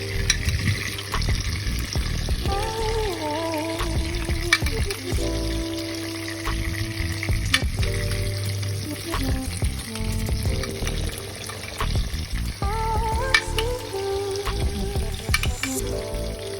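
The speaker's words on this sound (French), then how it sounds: "Je vais prendre un peu de cette huile et mettre au-dessus du poisson pour que ça continue à cuire très bien." Tilapia fish fries in hot oil with a steady, close sizzle and crackle, while music plays over it throughout.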